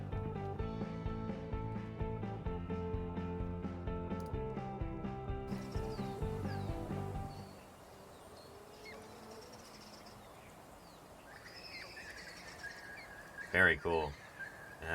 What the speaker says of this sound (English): a video from a different day from one of the same flock making the quiet squeaking noises they make, along with some bonus exuberant butcherbird calls